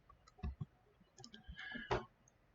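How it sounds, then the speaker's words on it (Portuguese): A computer keyboard is typed on while entering an Excel formula, producing a handful of quiet, close, irregular key clicks over a few seconds. "Então começo a digitar novamente"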